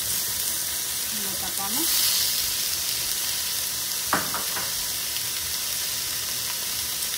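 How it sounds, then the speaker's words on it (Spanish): Carne asada sizzles steadily on a hot surface for a molcajete with nopales, a constant frying hiss with a brief voice early and a couple of sharp clatters of a lid or utensil midway. "le voy a poner mi carne aquí y que se vaya asando."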